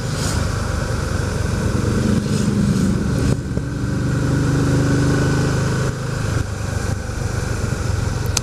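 Engine noise from a Can-Am Spyder riding the Tail of the Dragon, with cruiser motorcycles passing, forms a loud, continuous drone with wind rush and slight shifts in pitch.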